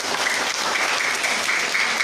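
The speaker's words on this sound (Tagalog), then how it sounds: "Palapakan nga po ninyo yung sarili." A congregation applauds at a Sunday morning Catholic mass, steady dense clapping filling the church for about two seconds with no voices over it.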